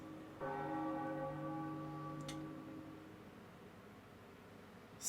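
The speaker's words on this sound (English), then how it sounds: "as we ring the bell atop the Tower of the Gods" In a Zelda video game, the bell atop the Tower of the Gods is struck once and rings out with a clear, lingering tone that slowly fades, with no voices.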